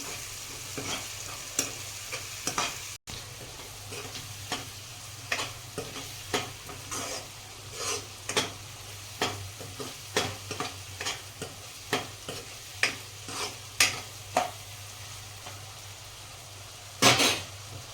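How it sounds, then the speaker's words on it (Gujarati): Onions frying in a pan with a steady low sizzle, punctuated by regular clicking stirs of a spoon against the pan, close and with no talking. "હવે આપણે 1 મિનિટ સુધી આપણે ડુંગળી આ રીતના અંદર ચડવા દઈશું."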